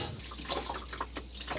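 Water splashes and trickles steadily from a pipe into a boat's waste holding tank during a pump-out check, a close, continuous hollow pouring with small irregular splashes and no talking.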